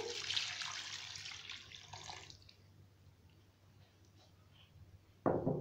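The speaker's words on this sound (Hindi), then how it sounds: "अब हम इसमें दूध डाल देंगे।" Milk poured into carrot halwa in a pan, a steady liquid pouring rush for about two seconds that then stops, followed by near quiet and a short sharp noise at the end.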